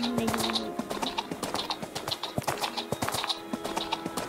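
Hooves of an Appaloosa horse ridden in a video game clip-clop in a steady, even rhythm at close range, with faint bird calls in the background.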